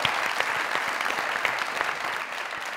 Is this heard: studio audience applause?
yes